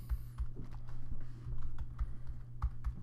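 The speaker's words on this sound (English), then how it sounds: "and I'll just type "Get out tonight"" Quick clicks of a computer keyboard being typed on come in short uneven bursts, close and clear, with a low steady hum underneath and no talking.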